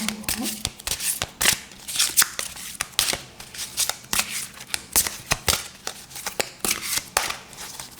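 Tarot cards being shuffled by hand: a rapid series of crisp riffling flutters and soft slaps repeating in uneven bursts, close to the microphone, with no talk.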